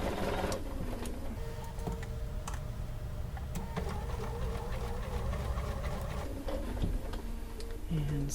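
A sewing machine runs steadily, stitching quilt fabric with a quarter-inch seam; its busy mechanical whir and clatter stay close and fairly loud for the whole stretch, pausing briefly near the end.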